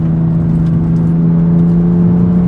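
BMW M4 CS engine droning steadily at close range, a constant low mid-pitched hum with a slight rise in revs, no speech.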